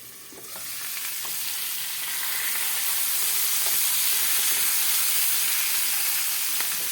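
Onion and garlic fry together in a pan for a pepper stir-fry, making a steady close sizzle that swells slightly and holds, with faint stirring ticks and no talk.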